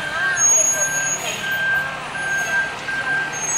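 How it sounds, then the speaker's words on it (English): An NYPD Emergency Services truck backs into its station house on West 126th Street, its reversing beeper sounding repeatedly over engine rumble and street noise, with voices nearby. "Got the truck going back."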